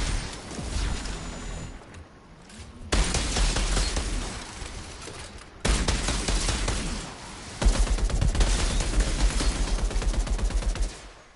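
Gunfire in the shooter video game Outriders: repeated bursts of rapid shots and heavy blasts in several loud sections separated by brief quieter gaps, with no speech.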